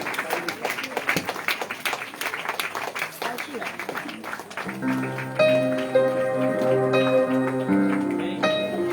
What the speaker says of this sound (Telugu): దైవజనులు వస్తుండగా అందరికీ చప్పట్లు కొట్టి వారిని ఆహ్వానించండి.